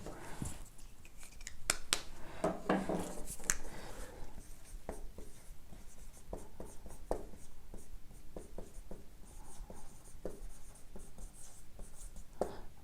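Pen or marker writing out trigonometry formulas from the Pythagorean theorem, steady scratching strokes and taps close to the mic for several seconds, louder early then settling into an even rhythm, with no talking.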